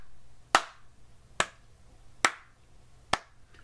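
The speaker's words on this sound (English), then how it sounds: "Let's say that you are clapping your hands to it." Four sharp, evenly spaced hand claps ring out close and alone, with about a second between each.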